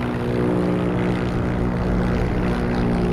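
A propeller airplane in the World War II video game Heroes & Generals drones loudly and steadily, a constant close engine hum with no break and no talk.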